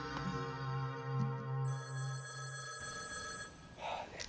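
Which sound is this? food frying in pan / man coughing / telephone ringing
telephone ringing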